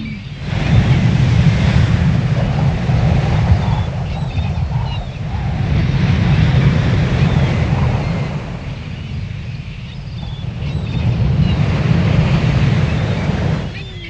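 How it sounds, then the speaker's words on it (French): Strong wind and ocean waves batter a ship at sea, with a loud, continuous roar that surges and eases in long swells and no talking. "Oui, mais le vent est très fort."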